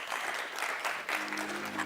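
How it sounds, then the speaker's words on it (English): A warm round of audience applause welcomes a speaker invited to the front at a forum on education in Africa; dense clapping is steady and moderately loud, with faint murmuring underneath. "Let's give him a warm round of applause."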